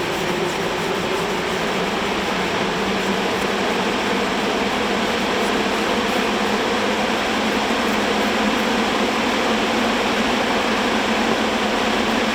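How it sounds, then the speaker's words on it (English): An electric fan running in a workshop gives a steady broadband whoosh, loud and unchanging for the whole stretch with no speech or other sounds. "Stick the fan on so you won't hear me."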